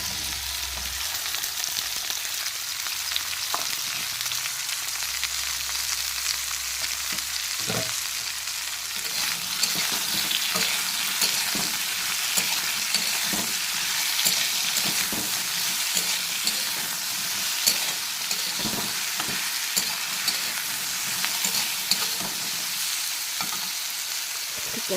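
Okra sizzling in hot oil in a home kitchen, a steady, fairly loud frying hiss across the whole stretch with occasional stirring scrapes and clicks, no voices.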